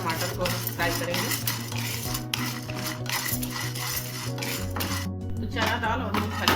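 Chana dal and peanuts dry-roasting in a pan for a dosa recipe, with steady metallic scraping and clinking of a spoon stirring against the pan throughout, close and fairly loud, over a low continuous hum.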